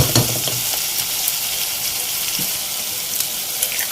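Eggs hitting a pan of oil-separated fried masala for a dhaba-style egg masala, with loud steady frying sizzle and some stirring and water-like sounds throughout, no talking.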